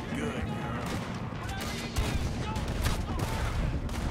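Pump shotgun fire in Red Dead Redemption 2 booms close and heavy amid a dense, noisy shootout, with repeated blasts and chaotic game sound throughout, and voices talking over it.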